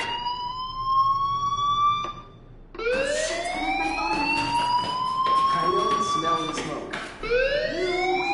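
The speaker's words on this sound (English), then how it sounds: "do you hear that fire alarm?" A fire alarm in a PS4 video game wails in rising sweeps, loud and near, repeating several times with short gaps between cycles; no one talks over it.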